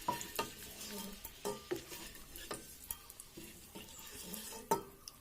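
Eggs fry in a pan of oil for egg masala, a faint, quiet sizzle broken by scattered clinks and scrapes of a utensil against the pan.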